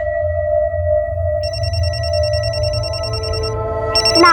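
A mobile phone rings indoors in a steady electronic tone, with a second high-pitched ringtone joining partway through, continuing for several seconds over a low background hum.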